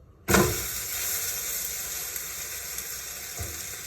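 Food dropped into hot oil in a pan, a sudden loud sizzle that settles into steady crackling frying, with a second small hiss near the end and no talking.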